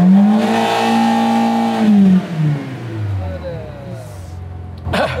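A Rolls-Royce engine revs up loudly, holds a high pitch, then drops back down to a low idle, with a brief sharp noise near the end.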